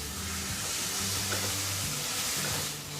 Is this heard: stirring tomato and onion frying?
yes